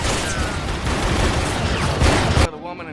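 Film shootout gunfire erupts as a dense, loud volley of overlapping shots and booms that pounds on for a couple of seconds before cutting off abruptly.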